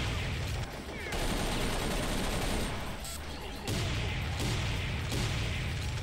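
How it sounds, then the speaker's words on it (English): Sniper rifle fire in the Serious Sam 3: BFE video game, with loud repeated shots and booms against biomechanical enemies over a dense, continuous battle din. "the sniper is still proving to be very useful at taking out these biomechs"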